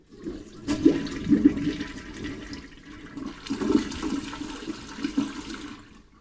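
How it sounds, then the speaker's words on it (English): A toilet in a cabin being winterized flushes up close, a loud rushing swirl of water that surges, eases, then surges again over several seconds before tapering off, with no one speaking. "And then you want to flush this thing."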